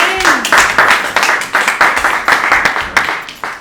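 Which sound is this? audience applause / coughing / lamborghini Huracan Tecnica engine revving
audience applause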